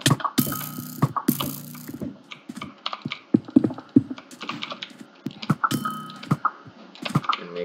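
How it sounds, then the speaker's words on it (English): Rapid jitter clicking of a computer mouse during a fast game, dense bursts of sharp close clicks and clatter in uneven flurries, loud and up front with no talk. "You can hear me jitter clicking in the background"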